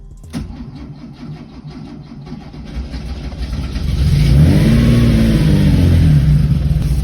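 A 1973 Porsche 911T engine catches with a sharp start, idles roughly for a few seconds, then revs up loud and close with a deep, rising throb.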